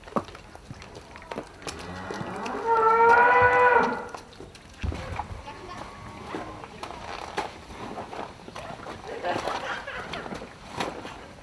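Cattle on a farm. A single loud, drawn-out moo rises out of quiet background noise, followed by faint rustling and a soft second call toward the end.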